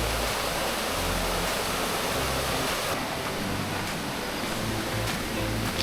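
Water rushes constantly in a dense, unbroken roar from a mountain stream or small cascade close by on Agathiyarmalai, with no other sounds standing out.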